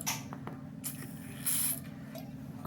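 Oil spray aimed at a dirty Lee Enfield rifle during cleaning: short hissing bursts, the longest and loudest coming near the middle, over a steady low background hum, close by and with no talking.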